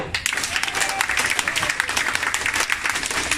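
Audience applause at an Elken company event, a dense, steady wash of many hands clapping throughout, fairly loud with a few brief vocal bits mixed in.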